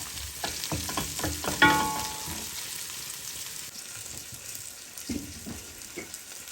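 Curry ingredients for a tomato and egg curry sautéing in a pan: a continuous hiss and crackle, with spoon scrapes and a sharp clink early on, then quieter sizzling, close and without speech.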